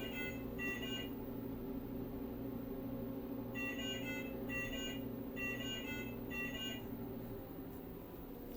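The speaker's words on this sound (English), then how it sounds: "What kind of alarm are you getting? Drug feed error." Repeated electronic alarm beeps from a machine signalling a drug feed error, sounding in short bursts of paired tones over a steady mechanical hum.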